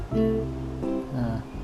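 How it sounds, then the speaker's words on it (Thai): A JBL Go portable Bluetooth speaker plays its pairing search tone, a few rising musical notes in under two seconds, clear and close. "นี่คือเสียงหาบลูทูธ"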